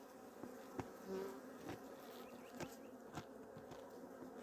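Faint, steady honeybee buzzing at a hive with a low droning hum, punctuated by a few soft clicks and knocks nearby; no voices.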